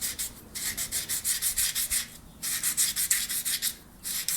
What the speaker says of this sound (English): we're also going to take a small piece of sandpaper and smooth out the inside to take the burrs off of the inside